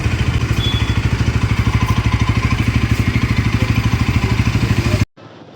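A Bajaj Pulsar NS200 motorcycle with a liquid-cooled engine idles close by, its exhaust giving a steady, even, loud throbbing pulse that runs alone for about five seconds before cutting off abruptly.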